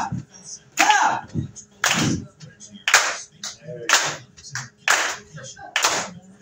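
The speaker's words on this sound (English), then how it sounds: "Clap, clap, clap, clap." Sharp hand claps ring out in a steady sequence of about six evenly spaced strikes at a live entertainment event, with faint voices murmuring between them.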